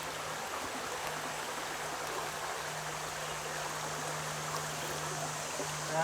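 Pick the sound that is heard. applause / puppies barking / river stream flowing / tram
river stream flowing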